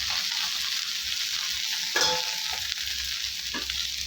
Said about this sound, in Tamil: இப்போ இதே எண்ணெயில் கொஞ்சோண்டு கல் உப்பு சேர்த்துக்கலாம் சேர்த்துட்டு இந்த சுத்தம் பண்ணி வச்ச முருங்கைக்கீரையை சேர்த்துக்கலாம்